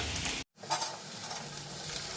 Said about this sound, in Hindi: आलू मेरी अच्छे तरीके से भून चुकी है